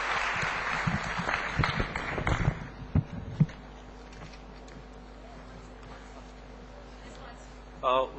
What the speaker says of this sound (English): I would like everybody to put up applause to all the panelists